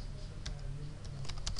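A password is typed on a computer keyboard, a short run of light, fairly close key clicks in an uneven rhythm over a quiet background hum.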